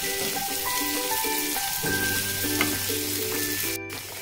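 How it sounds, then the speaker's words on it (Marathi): Okra tossed with gram flour fries in a pan over a high flame, giving a continuous, fairly loud sizzle with occasional stirring scrapes and steady tonal sounds in the background. "आता याच पद्धतीने आपण हाय फ्लेमवर मस्त जवळपास 4 ते 5 मिनिट ही भेंडी अशी परतून घेऊ।"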